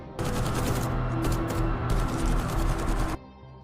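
A film scene in which an archbishop stepping out of his car is sprayed with bullets by an armed group: one loud, dense burst of automatic gunfire lasting about three seconds, then stopping abruptly.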